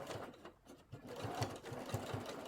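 A sewing machine runs in short rhythmic bursts, stitching the seam of an 18-inch doll crop top, with a brief pause before it picks up a steady pulsing chatter again, close and fairly quiet.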